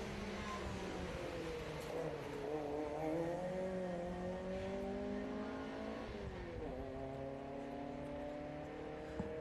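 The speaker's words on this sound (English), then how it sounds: "Rod Robertson has just left the line in the Mark 1 Cortina." A Mark 1 Ford Cortina historic race car pulls away from the start at a street sprint, its engine revving hard and climbing through the gears, loud and close with crowd noise around.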